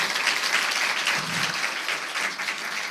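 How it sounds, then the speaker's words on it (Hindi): A church congregation at a Hindi-language sermon claps for the Lord, with loud, continuous applause filling the room and a brief low voice mixed in. "तालियां बजाओ ना अपने प्रभु के लिए"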